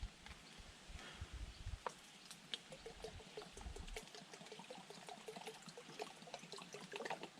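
Creek water trickling and splashing as a container is filled outdoors at a Florida campsite, a faint, uneven stream of small drips and pours close by, with no talking.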